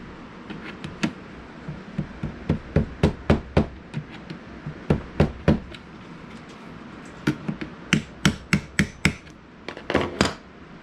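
Sharp, bright taps from a small hammer strike in quick clusters, a few blows at a time with short pauses between, close by over a low background hum, while building a beach fish cooler.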